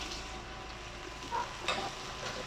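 Thickly cut pieces of a large tomato go into onions frying until lightly pink, giving a steady low sizzle with a few soft stirring scrapes and clicks. No one talks.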